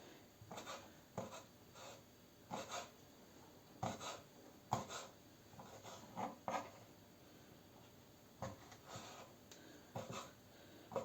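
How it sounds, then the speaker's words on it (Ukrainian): Knife slicing pig's liver into small cubes on a board for an oven-baked liver sausage, heard as a string of short, faint cutting strokes in irregular bursts, fairly close with no talk. "Ми наріжемо всю печінку."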